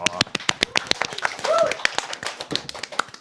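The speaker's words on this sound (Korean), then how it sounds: "물개 박수 한번 때리겠습니다" A few people clap fast and eagerly in a Korean political talk show studio, a dense run of sharp close hand claps with talk murmuring underneath.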